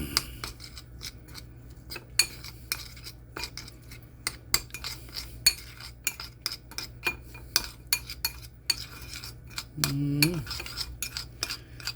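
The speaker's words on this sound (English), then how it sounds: "Mix that up real quick after I wash this off" Repeated scraping and clinking of a utensil against a pot, irregular rhythm, close by, with a short low hum near the end.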